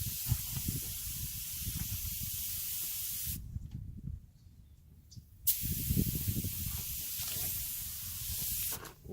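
Compressed air hisses steadily from a blower nozzle to clear dust off a car headlight before spraying, in loud sustained bursts with a short quieter gap in the middle.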